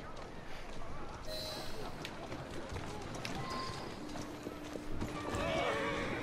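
Clip-clop of carriage horse hooves on a Victorian London street in the video game Assassin's Creed Syndicate, steady trotting over busy street ambience with background voices.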